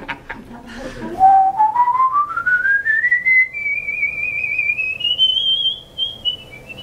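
A person whistles one long sustained tone that glides steadily upward in pitch and then holds high with slight wavering, clear and close, after brief voices at the start.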